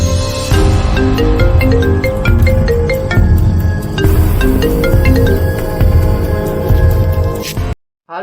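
A loud, melodic phone ringtone plays on and on with a steady rhythm and no voices, stopping abruptly just before the end.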